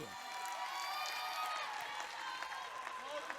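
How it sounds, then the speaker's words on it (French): Faint church congregation applause for the sound engineer, continuous clapping with some cheering mixed in, heard softly at a distance. "On peut applaudir le sonorisateur?"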